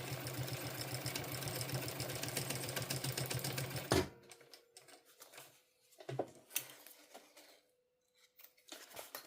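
A sewing machine stitches in a fast, even mechanical rhythm for a few seconds, then stops, followed by quiet handling clicks and rustles.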